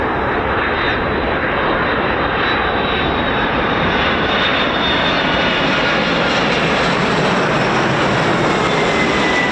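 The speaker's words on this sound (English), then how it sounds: "KC-46 Pegasus." A Boeing KC-46 Pegasus tanker arrives at an air force base with a loud, sustained jet engine roar that stays steady and overwhelming throughout, with a faint high whine riding on top.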